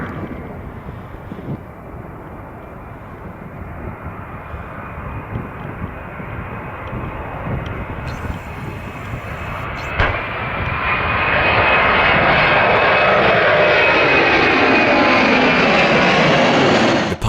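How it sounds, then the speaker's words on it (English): An Airbus A300 cargo jet in DHL livery taking off from Amsterdam, its engines roaring steadily and building to a loud sustained full-power rumble with rising whine partway through, no voices. "This DHL Airbus A300 was taking off from Amsterdam when it suffered a bird strike."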